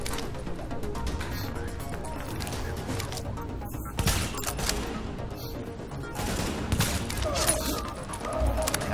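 Gunfire in The Division during a refugee camp fight, with rapid bursts and sharp shots at moderate volume, louder cracks clustering partway through.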